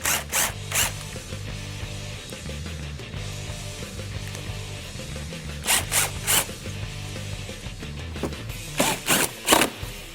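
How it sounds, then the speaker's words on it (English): Belly pan screws are driven back in under a 2013-2018 Ford Focus ST, with quick, sharp ratcheting bursts in a few short clusters separated by quieter stretches and a faint low hum underneath. "reinstall the screws for your belly pan"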